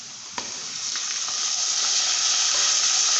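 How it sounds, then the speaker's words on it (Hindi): Chopped tomatoes hitting browned onions in a hot oil pan for an egg and potato curry, a sharp sizzle bursting in and then holding as a steady, loud frying hiss with faint stirring clicks. "अब ये प्याज ब्राउन हो गया, हम इनमें टमाटर डाल लेंगे"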